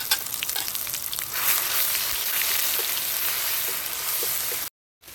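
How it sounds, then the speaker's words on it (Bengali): Ground garlic sizzles steadily in hot oil as the base for a crab curry, a continuous close frying hiss with faint crackles that cuts off abruptly near the end. "রসুনটা দিয়ে রসুনটা ভাজা ভাজা হয়ে গেছে"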